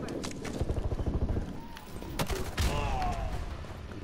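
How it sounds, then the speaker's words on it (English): A shotgun fires in the Loose Ends mission of a video game: a couple of sharp, close blasts a moment apart amid game noise and a talking voice. "No, I'm using a shotgun."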